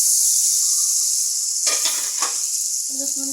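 Spice paste of ginger, cumin, onion, green chilli and salt sizzles in a frying pan as water is poured in, a steady loud hiss with a burst of bubbling and stirring near the end.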